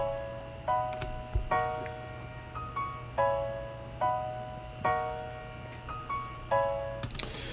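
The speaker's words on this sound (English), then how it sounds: "So I started out with a piano from Flex, Steinway D." Chords from a sampled Steinway D piano with reverb and delay removed, played in beat-making software: a repeating pattern of crisp, dry chord stabs and short notes over a faint low hum, with no talk.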